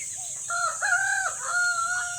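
Native chickens crowing, with a drawn-out cock-a-doodle-doo and a few clucks nearby, fairly clear over a faint, steady background hiss.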